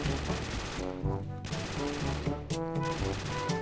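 Video game gunfire from a gun fitted with a reflex sight, rapid automatic bursts with short pauses between them, loud and close.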